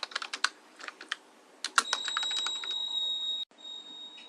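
Typing on a computer keyboard: a quick run of close, crisp key clicks in uneven bursts, with a steady high electronic tone in the latter half, no voice.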